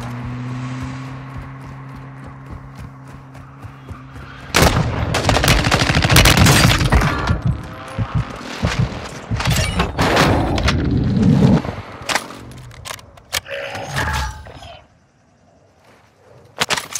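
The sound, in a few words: airstrike explosions and gunfire in Call of Duty Warzone 2.0 video game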